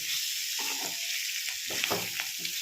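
Broad bean kasundi curry being stirred in a pan, a bright steady sizzle with intermittent scraping and stirring bursts of the spoon, close and alone without talk.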